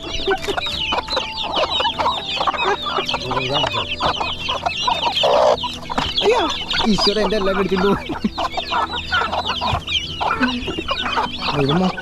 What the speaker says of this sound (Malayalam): മൊത്തം കോഴികളാണ്